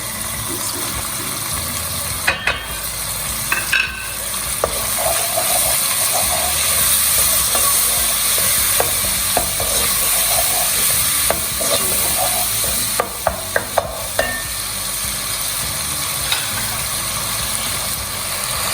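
Tomatoes with red chilli powder, turmeric, salt and coriander powder frying for dhaba-style daal mash, a loud continuous sizzle close up with occasional sharp spoon clicks against the pot, no voices.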